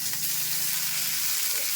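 Gima greens hit hot oil with fried onion, chillies and garlic, giving a steady, dense sizzle throughout with a faint low hum beneath and no speech.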